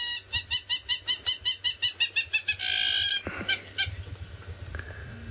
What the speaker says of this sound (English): There's that hammerkorp calling again